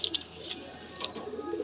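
Lotan pigeons cooing softly in a loft, a low murmuring coo with a few faint higher chirps, quiet and brief.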